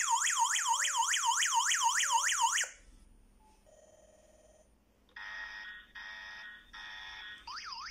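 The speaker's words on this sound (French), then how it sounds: "Ici, on voit que j'ai eu mon alarme." A loud warbling electronic siren from a connected home alarm panel with GSM transmission sweeps up and down repeatedly, then cuts off, followed by a brief tone and a series of evenly spaced beeps.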